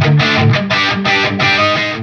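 An electric guitar plays clean tones through a Wampler Gearbox signature overdrive pedal: a quick run of plucked notes and short chords, close and clear with ringing harmonics, no talking.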